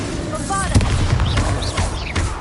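A Bombarda explosion spell from Hogwarts Legacy, heard as a loud close thud-like boom followed by whooshing magical zips and further impacts, set against dense battle noise.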